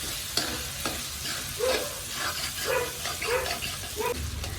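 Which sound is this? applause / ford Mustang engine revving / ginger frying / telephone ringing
ginger frying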